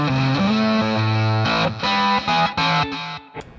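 An electric guitar plays a short riff through a gritty octave fuzz pedal, thick buzzing distorted notes ringing loud and close, ending in a brief fade.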